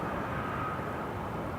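KLM Boeing 737-800 from Amsterdam arriving at a windy Manchester Airport, a steady broadband engine roar held at moderate level with wind noise throughout, no talk.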